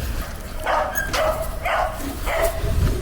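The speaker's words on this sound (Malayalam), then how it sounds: "ചെറിയ നായിയാണ്, വലിയ തൊള്ള" A small dog barks loudly in four sharp, evenly spaced yaps over steady background noise.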